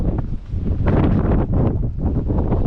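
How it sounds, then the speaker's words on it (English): Strong wind buffets and roars continuously, loud and close, rumbling with gusts throughout. "So it's still quite windy"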